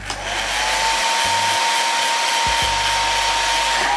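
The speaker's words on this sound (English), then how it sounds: "I'm gonna just blow dry this side" A hair dryer blows on a soft body wave wig with a loud, steady whirring roar and a high whine, briefly dipping twice before running on evenly.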